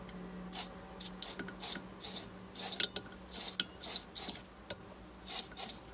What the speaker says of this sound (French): de pulvériser donc un produit qui va faciliter donc le contact électrique